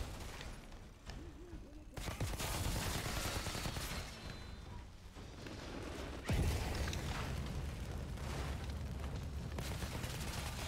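Sniper fire and combat in the shooter game Outriders, with dense, loud rumbling blasts and booms that surge abruptly, a sharp impact near the middle, and game sounds filling the mix throughout.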